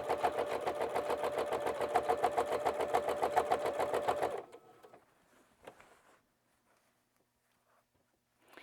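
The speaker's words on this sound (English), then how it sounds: "I'm just sewing this right up against my binding so that it's at pretty much the top of the quilt" Close by, a sewing machine stitches along a quilt binding in a quick, regular run of needle strokes for several seconds, then stops, leaving faint handling sounds and near silence.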